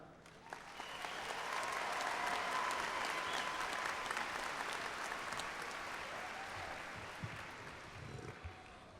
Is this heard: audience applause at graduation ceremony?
yes